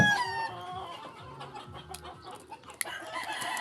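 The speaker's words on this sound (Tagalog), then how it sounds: "Ang daming manok dito sa akin." Several chickens cluck close by, with a rooster crowing at the start and scattered sharp calls over a quiet farmyard background.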